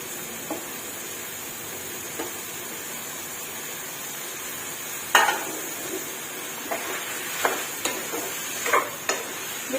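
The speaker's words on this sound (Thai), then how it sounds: "พี่น้องเราก็จะใส่มะละกอลงไปผัดซะหน่อยค่ะ" Papaya stir-fried in a pan for a papaya and chicken curry with lemon basil: a steady hissing sizzle throughout, with occasional soft clicks and scrapes of a utensil against the pan.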